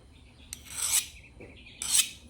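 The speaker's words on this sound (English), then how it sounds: "we have the file, the bastard file" Two rough rasping strokes of a bastard file across knife steel, each a bright, hissing scrape lasting about half a second, with a short pause between them.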